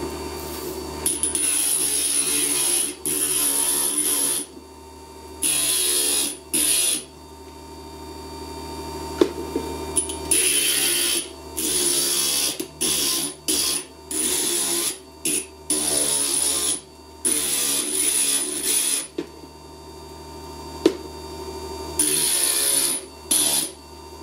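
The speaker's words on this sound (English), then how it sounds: "Now I'm going to grind my blue octagon and try to make it into a nice circle." Blue dichroic glass is ground from an octagon into a circle on a grinder, with repeated bursts of high, whining grinding separated by short pauses, close and fairly loud over a constant motor hum.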